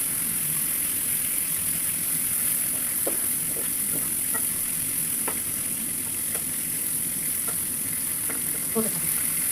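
Food, likely pabda fish, frying in hot oil in a pan gives a constant, dense sizzle with occasional sharp pops and spatters, close and steady throughout, with no talk.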